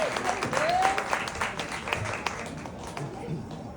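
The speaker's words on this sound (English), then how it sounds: "Let's give him a round of applause," An audience breaks into moderately loud applause, which tapers off gradually over a few seconds.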